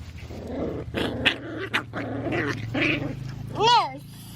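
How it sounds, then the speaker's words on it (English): Puppies squabble close up with a run of throaty growls and snarls in short bursts, ending in a high, wavering yelp. "Little puppy squabble."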